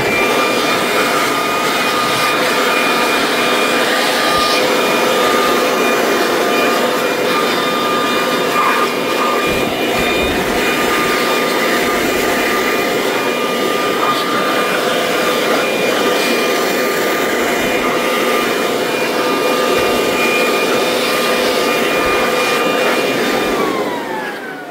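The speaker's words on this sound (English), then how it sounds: "It's a heck of an air blower there, huh?" A powerful air blower roars continuously, close and loud, blasting dirt out of the air box of a 2009 Chevy Malibu in a steady high-pitched whooshing drone with a faint whine, no talk over it.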